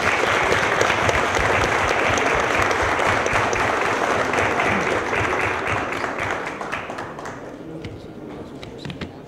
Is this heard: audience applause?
yes